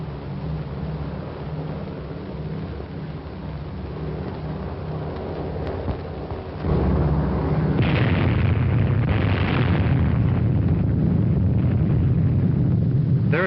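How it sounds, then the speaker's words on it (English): Atomic bomb detonation in an old film, with a low, steady rumble that suddenly swells into a loud, sustained roaring blast and then keeps rolling, booming and crackling to the end. "The fourth atomic bomb has been successfully detonated."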